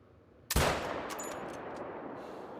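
A single sharp rifle shot at a deer in a hunting video game, loud and abrupt, followed by a long rolling echo that fades slowly over a quiet outdoor ambience, no talk.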